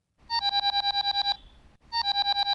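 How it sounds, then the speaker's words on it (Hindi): An electronic phone ring trills in rapid pulsing beeps, pauses briefly, then starts again; clear and close, with no voices. "कुछ भी नंबर डायल करके फोन को अपने कान में लगाती है।"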